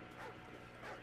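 Several dogs bark and yip in the Call of Duty 4 single-player campaign, two clustered bursts of barking heard moderately close over a steady game background.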